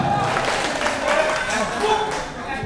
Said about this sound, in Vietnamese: Cho một tràng pháo tay thật lớn được không ạ?